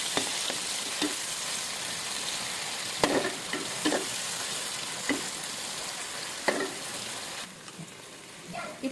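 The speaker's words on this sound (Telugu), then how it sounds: "దాంట్లో టమాటా ముక్కలన్నీ వేద్దాము. ఇది కూడా కొద్దిగా ఫ్రై అవ్వాలి" Tomato pieces frying with onions in a pan, cooked Andhra style, a soft continuous sizzle with occasional stirring scrapes and knocks, close and fairly quiet, with no talking.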